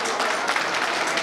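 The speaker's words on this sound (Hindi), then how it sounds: "अभय सर के लिए एक शानदार ताली हो जाए" Dense audience applause fills a seminar hall at a large RCM business meeting, a steady broadband wash of many hands clapping with no pauses, fairly loud and close.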